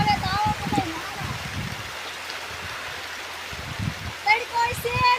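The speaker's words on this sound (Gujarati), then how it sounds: "આ પહેલો વરસાદ છે" The season's first rain falls as a steady hiss of drops outdoors, moderately close, while people and children talk over it.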